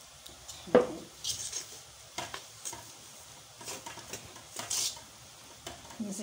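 Dough is stirred and mixed in a bowl for doughnuts and beignets, with quiet scraping and clinking of a utensil against the bowl in irregular strokes, faint and close.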